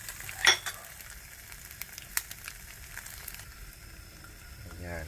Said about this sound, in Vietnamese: Trứng gà ốp la thành trứng gà chiên.